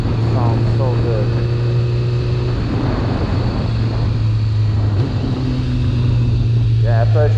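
A 2000 Kawasaki ZX6R motorcycle engine drones steadily while riding, a loud close hum with shifting pitch and gear changes under continuous wind rush, with a voice speaking over it in places.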